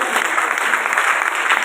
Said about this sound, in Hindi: ऐसे फैजाबाद के सीजे के सिपाही के लिए जोरदार तालियां हो जाए।